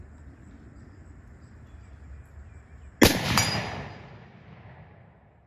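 A single rifle shot from a Savage 110 Apex Hunter cracks out over a quiet outdoor background, followed moments later by a faint metallic ping of the round striking a steel plate, then a fading echo.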